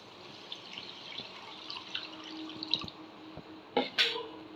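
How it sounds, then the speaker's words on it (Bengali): Water is poured into a pan of cooked masala for a Bengali dhokar dalna curry: a low background simmer with faint bubbling ticks, then a short, louder splash near the end. "এই সময় আমি এখানে পরিমাণ মতো জল দিয়ে দেব।"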